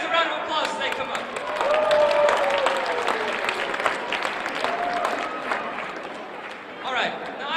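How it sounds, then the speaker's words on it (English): An audience applauds volunteers as they walk up onto the stage at a motivational speaking event, a steady wash of clapping that swells, holds for several seconds, then thins out near the end. "give these guys a round of applause as they come up"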